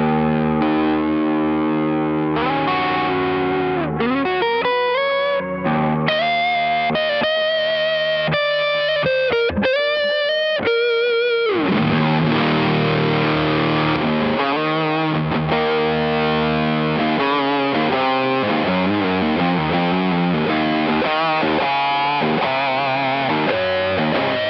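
A Carvin Kiesel CT6 electric guitar runs through a Keeley Oxblood overdrive pedal, playing a continuous, loud rock passage of driven chords, quick bends and squealing pinch harmonics.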